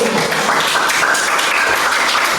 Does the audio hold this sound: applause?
yes